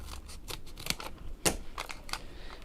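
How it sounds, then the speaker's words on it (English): Scissors snip through foam pads in a series of quiet, irregular crisp cuts, with one sharper snip standing out midway. "We might need to cut into these a bit."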